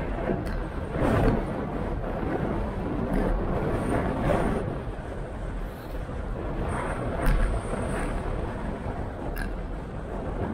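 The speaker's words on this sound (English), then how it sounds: "It's pretty windy today." Steady broadband wind roar buffeting a handlebar-mounted action camera microphone while cycling, with gusts swelling and easing, loud and close.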